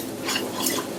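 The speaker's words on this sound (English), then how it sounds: "One of the reasons I like a spatula with this pan is because it actually gets the sides really well." Spatula scraping and stirring Spanish rice around a pan, a steady scratchy swish with two slightly louder strokes, close and alone.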